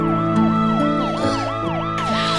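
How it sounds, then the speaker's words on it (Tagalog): A loud ambulance siren wails in a rapid repeating up-and-down pattern, close and dominant, with a low engine rumble underneath during an emergency scene. "Perry, andyan na yung ambulansya."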